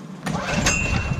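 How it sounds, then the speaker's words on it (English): A small engine with the choke on, running on three-year-old gasoline, cranks and tries to start nearby with a loud, rough, sputtering churn and a couple of sharp surges. No one speaks over it. "Engine switch on. Now it counts. Oh, Bob. Choke on."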